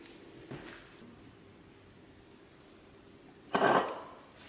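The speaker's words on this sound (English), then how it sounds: "So we're gonna add the cream cheese now." Cream cheese going in for donuts, with a faint utensil clink early on and a louder, sharper clatter of metal against a dish near the end, otherwise quiet.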